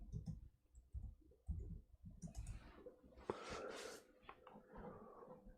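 Keys clack on a computer keyboard in quiet, scattered bursts of clicks, mixed with soft breathing and small desk noises.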